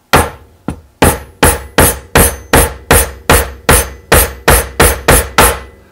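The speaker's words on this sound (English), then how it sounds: "I've been sitting there beating on this with a hammer." A series of about fourteen sharp metallic hammer blows on a Prince Rupert's drop of glass, evenly spaced and loud, each ringing briefly before the next strike.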